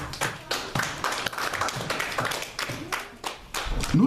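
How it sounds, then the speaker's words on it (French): A church congregation applauding together, a dense patter of many hands clapping at close range, steady throughout with no talk over it. "Acclamons pour cette parole magnifique."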